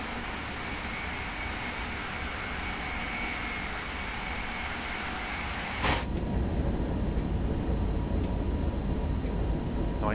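A DB BR101 electric locomotive running at speed in Train Sim World 2, a steady rumbling rail hum and rushing noise, with a sharp transient partway through followed by slightly louder, rougher running; no speech.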